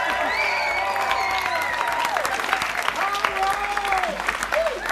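Studio audience applauding and cheering for an arts organization, dense loud clapping with whoops and shouted cheers rising over it, and a voice speaking through the crowd noise.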